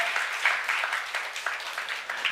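A church congregation at a Korean youth-group sermon breaks into applause, a dense, sustained clapping that fills the room with no speech over it.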